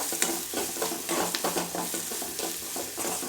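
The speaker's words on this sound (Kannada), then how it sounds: "ಚೆನ್ನಾಗಿ ಫ್ರೈ ಮಾಡಬೇಕು" A pan sizzles steadily with sugar added, stirred through as it fries for a homemade breakfast dish; the hiss runs close and continuous, with a few sharp scraping clicks of the spoon.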